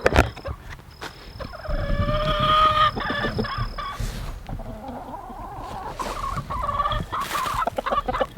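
Backyard chickens cluck and squawk close by over scraps of rendered pork fat, a steady run of fowl calls with scattered sharp notes and bumps, no talking.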